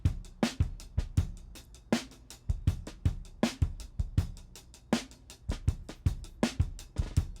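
Vintage drum break loop named Midnight Break from Logic, with punchy kicks, crisp snares and busy hi-hats in a steady, swung groove, played clean and alone at a moderate level.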